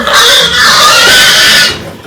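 A pig being weighed for sale squeals loudly and harshly at close range in one sustained, piercing burst before cutting off.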